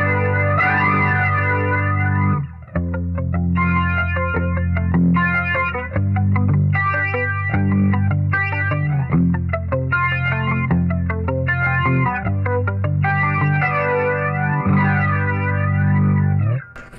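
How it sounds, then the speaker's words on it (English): Electric guitar played through a flanger effect pedal, a sustained chord pattern with a swirling, sweeping comb-filtered tone, strummed repeatedly with brief gaps between phrases, loud and close with no talking. "pretty much just use it for the flange setting"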